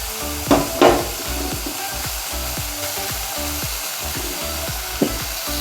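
Grated coconut frying in a wok over a gas flame, with a continuous low sizzle and a few sharp scrapes and knocks of a stirring spoon against the pan, no voices.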